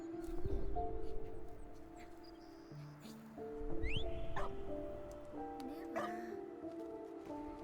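Fox yips from the video game Neva, a few short high calls scattered over soft sustained musical tones, faint and intermittent, with a person talking quietly in the background.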